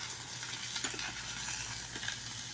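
Shrimp and crab sauté together in a pan, giving a quiet, steady sizzle with soft stirring scrapes and no voices.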